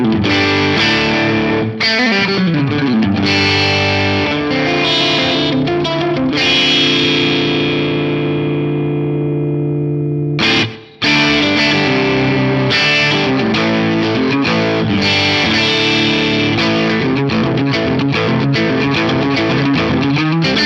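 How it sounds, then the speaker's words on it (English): Electric guitar through an Axe-Fx III with a 16th-note slapback tape delay, playing a long distorted riff of chugs, sustained chords and short bursts, with a brief drop out midway, loud and close. "Let's make it a 16th note delay."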